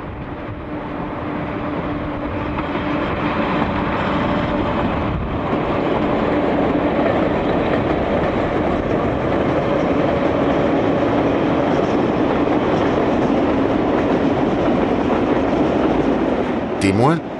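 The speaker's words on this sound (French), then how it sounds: "ce train de marchandises qui conduit à la ville les eaux minérales des Hautes-Alpes et y ramène tout un chapelet de wagons vides" A freight train carrying mineral water from the Hautes-Alpes rolls along the Alpine line, a loud continuous rumble with rhythmic wheel clatter and a faint squeal. A brief rattle sounds near the end.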